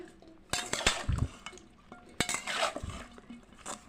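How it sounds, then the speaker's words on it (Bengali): A spatula stirs oil through a drumstick (sajne data) pickle in a metal pot, giving scraping clinks and knocks in two short bursts, close and moderately loud with no talk. "এবারে আমি খুন্তিটা দিয়ে খুব সুন্দর করে মিশিয়ে নিচ্ছি।"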